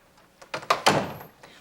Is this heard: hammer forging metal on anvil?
no